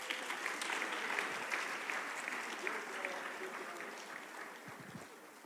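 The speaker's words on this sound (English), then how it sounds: "A round of applause for them." Sustained audience applause at an African summit, a dense wash of clapping that holds steady and then slowly fades, with a voice faintly audible near the end.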